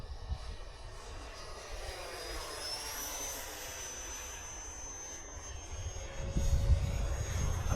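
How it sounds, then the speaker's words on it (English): A low-flying KC-135 tanker aircraft passes overhead, a distant, steady jet roar with a thin high whine running through it, growing slightly louder toward the end. "It's a really low flying KC-135 tanker."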